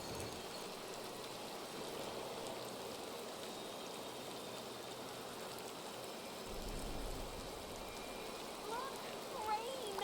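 Steady rain patters in a video game world, a soft continuous hiss at low to moderate level with faint background tones and no talk.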